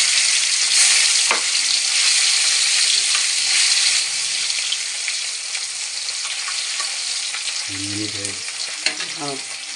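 Small puti fish fry in hot oil with a steady, close hiss that eases slightly midway, then a brief burst of clattering near the end as more fish go into the pan; no talking.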